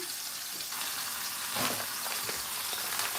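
Pork chops frying in a pan, a steady soft broadband sizzle and crackle with a few louder spits, close and continuous with no voices.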